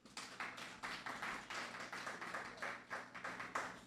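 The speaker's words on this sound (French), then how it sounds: "Applaudissez-le." Audience applause for a speaker at a Café Philo talk, a faint but steady patter of clapping hands from a small crowd, without talk.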